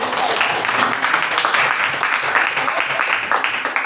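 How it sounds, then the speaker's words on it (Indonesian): Classroom applause during a lesson on writing observation reports, dense steady clapping from a group of students filling the space throughout, with some voices mixed in. "Tepuk tangan lagi."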